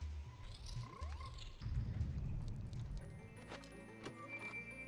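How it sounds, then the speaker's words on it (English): A frog croaks in the video game The Legend of Zelda: Majora's Mask, a few quiet low croaks with rising chirpy game tones and faint clinks over soft background music. "This frog that basically wanted to kill us with no recollection of that."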